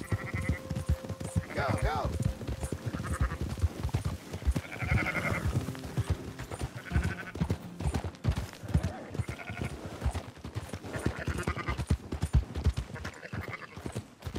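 Sheep bleat repeatedly amid shuffling hooves and clatter, while people shout and talk over the commotion nearby.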